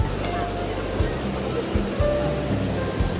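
Hin Tang waterfall in Udon Thani pours steadily, a constant rushing roar of falling water with a deep low rumble, heard close and continuous throughout.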